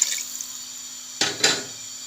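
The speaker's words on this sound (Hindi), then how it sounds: "इसी पॉइंट पे हम पानी ऐड करेंगे।" Water hits a hot pan of fried chicken while making shami for an egg shami burger: two quick splashing, hissing bursts close together, with near silence and a faint hum around them and no talk.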